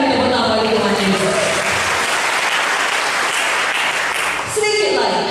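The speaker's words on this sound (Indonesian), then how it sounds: "Berikan tepuk tangan bagi Tuhan Yesus." Applause from a church congregation fills the space steadily and loudly for several seconds, dense and sustained, with a voice speaking over it and tailing off near the end.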